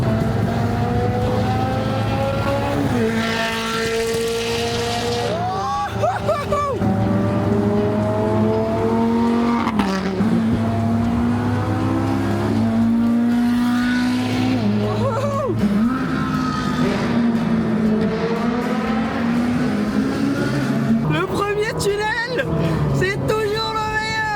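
A Ferrari 360 engine revs and drones loudly, rising and falling in pitch as it accelerates, with people talking over it throughout.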